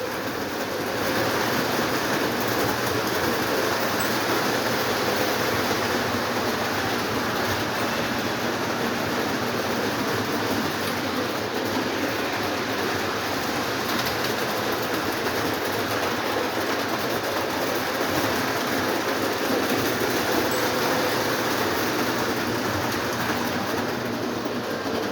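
Five Lionel model trains run at once on a layout, a continuous dense whir and rattle of wheels on track, steady and close with no talk.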